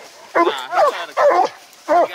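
Hounds bark in four loud, close bursts during a bear hunt, each sharp yelp separated by short pauses.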